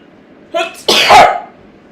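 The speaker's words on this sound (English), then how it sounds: "I'm going to sneeze again." A single close, loud sneeze with a sharp indrawn breath before it, followed by quiet room tone.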